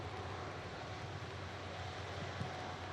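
Loganair ATR turboprop airliner coming in to land: an even, distant-sounding propeller hum and airy wash holding steady throughout, slightly buffeted by wind, no talking.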